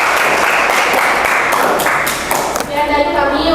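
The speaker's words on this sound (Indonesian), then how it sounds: "Ayo, buat tepuk tangan buat kelompok 5." Audience applause for a student group in a classroom teaching session, a broad steady wash of clapping that runs the full length and thins out toward the end as voices begin to come through.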